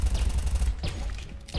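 Rapid automatic rifle fire in the Pixel Gun World shooter game, a fast string of sharp shots in the first second followed by a couple of further bursts, loud and close.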